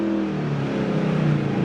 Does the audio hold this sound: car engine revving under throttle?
yes